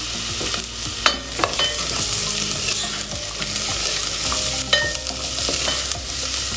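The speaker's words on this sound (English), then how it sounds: "So now I'm going to add potato." Potato goes into a pan of garlic cooking over a low flame, bringing steady sizzling and frying with intermittent clinks and scrapes of stirring, close and continuous with no talking.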